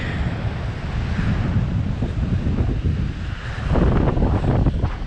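Wind buffets the microphone on a beach at sunset as surf rolls and washes ashore, a steady broadband roar with a stronger surge of waves near the end.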